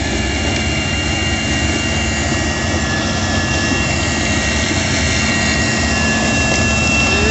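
A tractor works during a mechanized sugarcane harvest, giving a loud, continuous engine drone and roar that stays constant throughout, heard up close with no speech.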